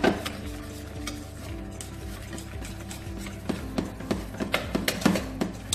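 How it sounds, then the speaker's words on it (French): A spoon stirs flour into boiling liquid in a saucepan for choux dough, with repeated scraping and knocking against the pan in an uneven rhythm, close up and fairly quiet with no talking. "je remue bien pour éviter les grumeaux"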